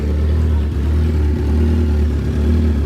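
A 2021 Kawasaki Ninja 1000SX motorcycle idles and revs through its exhaust, a loud, close, steady engine drone with slight throttle swells across the few seconds.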